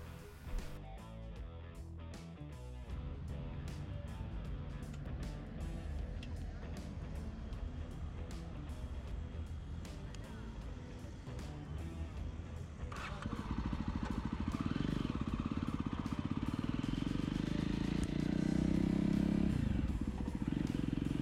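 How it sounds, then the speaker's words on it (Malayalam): A Jawa Perak motorcycle being ridden gives a steady engine drone with road and wind noise. The note swells louder and higher partway through as the bike accelerates. "ഇനി ഈ ജാവ പെറാക്ക് നമുക്കൊന്ന് ഓടിച്ചു നോക്കാം."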